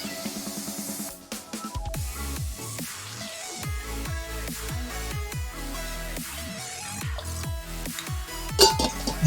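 Water is poured into a glass, its gurgling tone rising as the glass fills, with drips and light clinks of glass close by.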